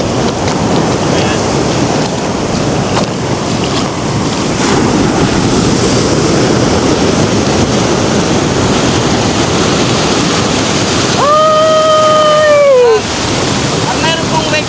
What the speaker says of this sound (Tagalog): The waves are inviting.